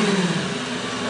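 Lamborghini Gallardo SE fitted with a Tubi exhaust kit revving at a cars and coffee meet in San Antonio, a loud droning engine note that rises and falls briefly.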